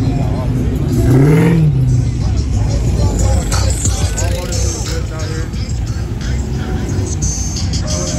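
Porsche engine revving up at a street car cruise, loud and close with a rising sweep, mixed with crowd chatter and other traffic as people talk nearby.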